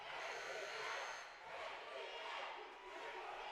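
A crowd roars and cheers in a gym during a boys' basketball district championship game, a dense, steady wash of voices that swells and eases in waves over a few seconds.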